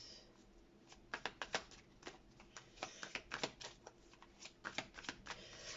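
A deck of playing cards being shuffled, a series of quick riffling snaps and flutters in irregular bursts, close and fairly quiet, with no talking.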